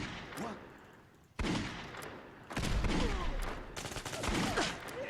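Custom Remington 1875 revolver fire in Fallout 4 comes as several sharp, loud shots spaced about a second apart, each one trailing off in a long echoing tail.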